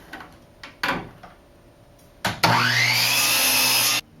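A power saw cuts a wooden ceiling trim piece during a boat's deckhead restoration. A few sharp knocks come first, then a loud, steady whine rises slightly in pitch and runs about a second and a half before cutting off abruptly.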